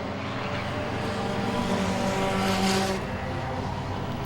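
Stock cars in an enduro race at Langley Speedway roar continuously around the track, a dense sustained engine drone that swells as cars pass near, with no talk over it.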